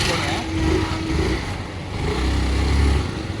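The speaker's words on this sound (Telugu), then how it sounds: "ఇప్పుడు వచ్చేసి మీకు ఇంజన్ ద్వారా నడిపి చూపిస్తాను చూడండి." A Honda Activa scooter converted as a handicapped vehicle runs on its petrol engine, a low, steady rumble that swells near the end while a person talks over it.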